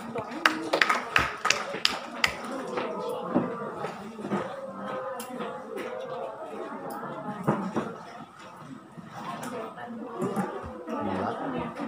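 Students clap together in a classroom, a dense patter of many hands with lively chatter and voices mixed throughout.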